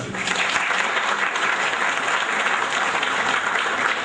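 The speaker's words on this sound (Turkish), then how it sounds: "bir teşekkür, bir şükran borçlu olduğumuzu ifade eden bir alkış gönderelim lütfen" Gratitude applause at a police house iftar gathering, a loud, continuous roar of many hands clapping at an unbroken, even level from start to finish.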